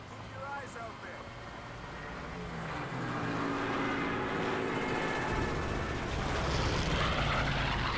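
Propeller planes drone overhead in the World War II shooter Call of Duty: Big Red One, the engine roar swelling from moderate to loud and holding as the aircraft pass amid game ambience, with voices talking underneath.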